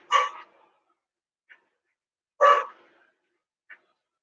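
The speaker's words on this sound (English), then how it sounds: "it's not a freaking stream unless my dog is barking." A dog barks twice, a few seconds apart, each bark short and close, with small soft sounds between them.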